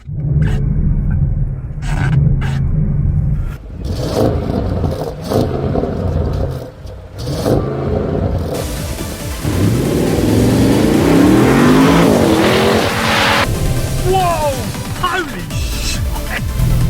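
An Audi R8 with 441 horsepower and 800 Nm of torque, its engine revving up loudly and then pulling away in rising, accelerating sweeps beneath someone talking in the cabin.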